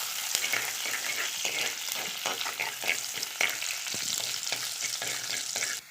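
Ingredients frying in a pan for ash gourd curry, a continuous close sizzle with frequent stirring scrapes and spoon taps in an irregular rhythm.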